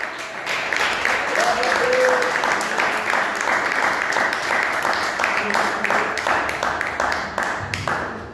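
A church congregation claps joyfully together in quick, fast rhythmic applause that holds steady for several seconds, filling the room, with a voice speaking over it at times.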